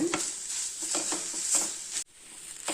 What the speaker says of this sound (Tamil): எள்ளு பொடியை போட்டு ஒரு வதக்கலாங்க